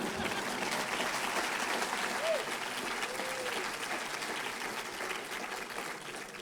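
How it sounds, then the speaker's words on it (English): Audience applause at a TV awards event, a dense, even roar of clapping from a large crowd that fills the whole stretch, with a brief whoop rising above it. "It says here, hold for applause."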